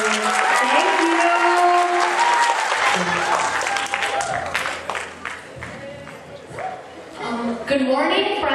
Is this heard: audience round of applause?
yes